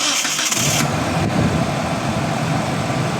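A car engine cranks and fires up after the ignition has been switched on for a few seconds, then settles into a steady, fairly loud idle close by with no talking.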